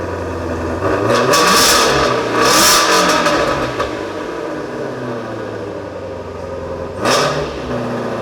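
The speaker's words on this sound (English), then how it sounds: "Get the all through them and then rev the engine." Ford Cobra Jet drag car engine revved hard in several loud bursts that rise and fall over a rough, loping idle, close to the microphone with no talking.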